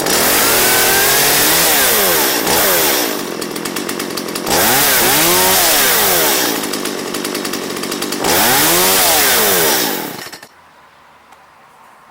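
A Stihl MS170 chainsaw that had sat unused since last season runs close and loud, revving up and down in repeated surges before cutting out to near silence at the end.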